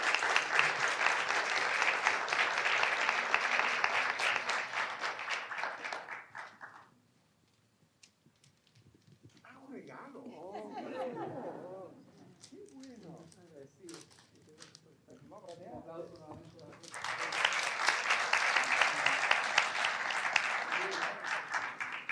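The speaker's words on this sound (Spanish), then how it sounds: "un gran aplauso para él" A lecture audience applauds in two strong bursts of many hands clapping. Between them the clapping falls away and someone speaks alone for several seconds before the applause swells back up.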